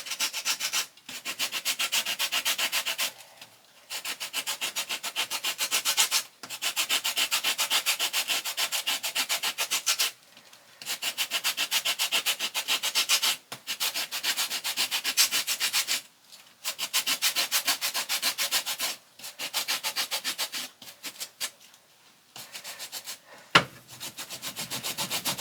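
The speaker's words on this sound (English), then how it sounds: "because I love orange zest, I'm going to go around this whole lemon" A whole lemon rasped against a grater in repeated, even scraping strokes, each lasting a couple of seconds with short pauses between, close and clear with no talking.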